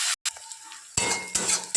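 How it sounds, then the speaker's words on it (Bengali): Onions frying in a pan with bay leaf, whole garam masala and cumin, stirred with metal utensil scrapes and clinks, a brief clatter then steady sizzle with two louder scraping bursts. "লাল লাল করে পেঁয়াজটাকে ভেজে নেব"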